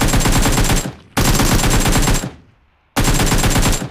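Automatic gunfire from Battlegrounds Mobile India (PUBG) rattles out in three loud, rapid bursts separated by short gaps, sharp and close with no voices over it.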